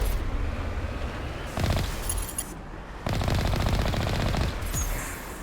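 An Alliance heavy turret in Mass Effect 1 fires in sustained rapid bursts, loud and close machine-gun chatter coming in two or three long volleys separated by short pauses.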